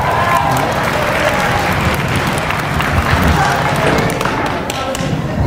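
A school Black History program audience applauds a young student, a steady, loud wash of clapping and crowd noise that fills the whole stretch without a break.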